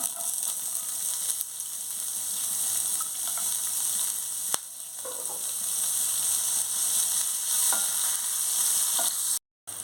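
Onions fry in oil with cumin in a pan for a punugulu curry. A continuous close sizzle runs throughout, with light scraping and stirring over it and no voices.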